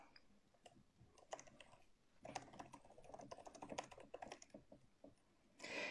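Soft clicking of a computer keyboard as a short message is typed, irregular keystrokes close to the listener with brief pauses, quiet overall and free of speech.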